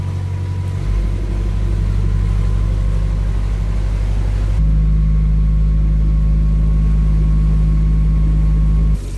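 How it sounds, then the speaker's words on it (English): A narrowboat engine on the Llangollen Canal labours hard through a narrow, shallow tunnel against oncoming water. It makes a loud, continuous low drone that steps up to a heavier, steadier roar partway through. "can smell the engine getting quite hot because you're really having to rev it to get through this tunnel with the water coming against us"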